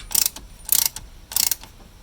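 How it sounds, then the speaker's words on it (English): A ratchet strap is cranked tight during an RV setup, giving three quick bursts of rapid metallic clicking, each a short rattling run of pawl clicks separated by brief pauses, close and crisp. "Just kind of ratchet this, and there you go. Now there's some tension, so now we're going to crank it nice and tight."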